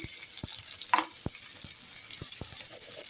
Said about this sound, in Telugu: ఎర్రగడ్డలు కొంచెం వేగినాయి ఇప్పుడు క్యారెట్ వేసుకున్నాము